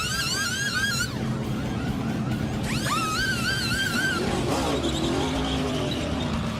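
NASCAR stock cars speed off pit road in a 2016 race, engines whining as they rise and fall in pitch while several cars pass close by one after another, over a busy crowd and track din, with no clear voices.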